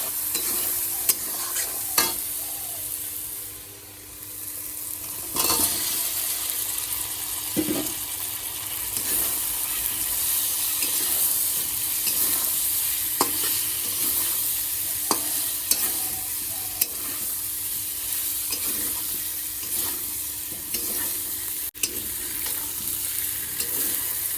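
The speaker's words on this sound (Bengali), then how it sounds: "নিয়ে মশলাটা ভালো করে ভাজা ভাজা করে নিচ্ছি" A spice paste with salt and turmeric sizzles steadily in a pan while a spatula scrapes and stirs it in irregular, close strokes, with no voices.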